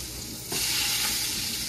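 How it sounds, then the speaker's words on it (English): Food drops into good, hot grease and bursts into a loud, steady sizzle that fills the kitchen after a brief quieter moment, continuing evenly without any voices. "Get her to frying."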